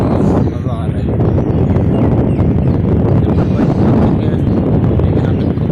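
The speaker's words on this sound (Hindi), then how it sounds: "बड़ी ठंडी हवा चल रही है" Cold wind blows hard outdoors in Lahore, roaring steadily into the microphone as a loud, constant rumble that fills the whole stretch.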